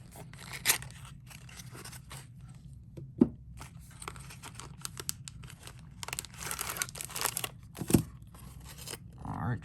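Paperwork being pulled from the box of a Kershaw or Buck knife during unboxing, soft crinkling and rustling of paper with a few sharp handling taps, fairly quiet.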